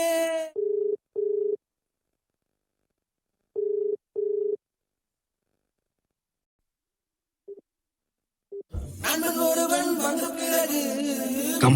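A mobile phone rings in a Tamil comedy short film: two pairs of short, steady electronic ring tones separated by silence, then a loud musical ringtone that plays continuously to the end.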